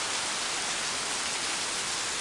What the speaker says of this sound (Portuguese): Já está com uns 15 minutos ou 20 minutos que está chovendo aqui em Guajará-Mirim.